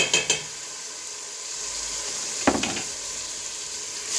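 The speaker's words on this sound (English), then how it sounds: "I'm going to let this saute for a few minutes." Garlic and onion sauté in a pan with a soft, steady sizzle, broken by a couple of light utensil clinks near the start and one scrape midway. The sound is close and quiet, and no one talks.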